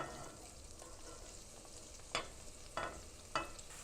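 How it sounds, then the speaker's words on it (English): Garlic and onion sauté in oil in a pan for an Italian pasta sauce, a quiet steady sizzle broken by three brief scraping stirs of a utensil, with no talking. "We saute this a little bit."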